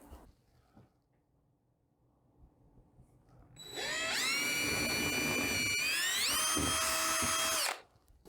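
A power drill bores a hole into a painted ceiling, starting after a quiet lead-in and whining loudly and steadily for about four seconds, its pitch climbing as it spins up and cuts through.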